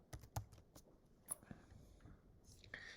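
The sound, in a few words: typing on a computer keyboard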